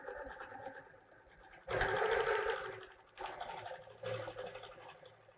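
Sewing machine stitching in the ditch along quilt seams with a 360 Wonderfoot, close and fairly quiet, with three distinct bursts of rapid whirring stitching separated by short pauses and a low motor hum.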